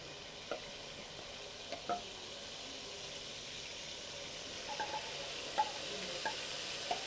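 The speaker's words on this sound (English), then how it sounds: "I want to pour in my blended, not too smooth blended tomatoes, rodo, and onions" Blended tomatoes, rodo peppers and onions hit a hot pan and sizzle steadily with a faint hiss, a few small clinks and stirring knocks scattered across the quiet, nearby cooking.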